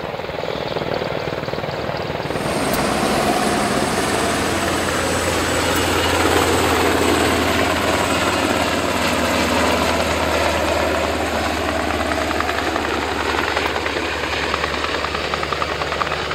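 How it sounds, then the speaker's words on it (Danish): Danish air force military helicopters (EH-101 Merlin, AS-355 Fennec, MH-60R Seahawk), four flying in together at an airshow, make a loud, steady rotor and turbine roar that drones continuously throughout with no talk. "Så kommer de 4 helikopter ind igen."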